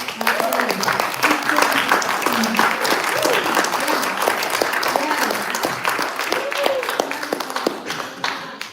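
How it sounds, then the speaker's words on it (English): An audience at a Dallas network-marketing Super Saturday event gives a big round of applause, continuous and loud from a sizeable crowd, with a voice talking over it. "let's give him a great round of applause"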